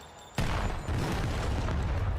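A grenade blast in a Call of Duty match: a single sudden loud boom, followed by a sustained rumbling roar that fills the rest of the moment.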